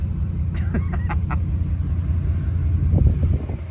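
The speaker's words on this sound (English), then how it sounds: "He hasn't even turned off his truck." A truck engine left idling at a roadside stop, a steady low rumble throughout with brief higher clatter and some wind noise, no talk.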